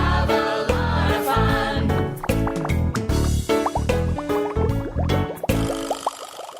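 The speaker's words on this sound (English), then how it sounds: "Let's go blow some bubbles." Bubbles being blown in a children's story: a busy run of watery bloops, drips and springy pops over a light musical bed, loud and close, ending in a few rising bubbly boings.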